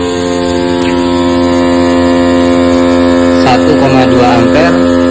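A YAKAMA 12 V DC auto cut-off pump runs on a 14.4 V supply, giving a loud, steady electric hum with a strong buzzing whine that holds evenly throughout, with a brief rougher wobble near the end.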